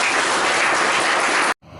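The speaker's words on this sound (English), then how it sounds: "So please give the evaluator and the speaker a very good round of applause." Dense, steady applause from a seated audience after a prepared speech and its evaluation, loud and unbroken for about a second and a half before cutting off abruptly, with a faint murmur returning after.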